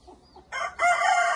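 A ten-month-old rooster crows once, close and loud, a bright rising call that starts after a soft murmur and holds to the end.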